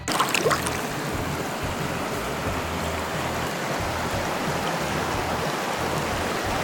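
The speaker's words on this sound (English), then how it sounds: "This is the Ocoee River." The Ocoee River runs over exposed rocks at low water, a close, continuous rushing hiss of flowing water at steady loudness with no voices.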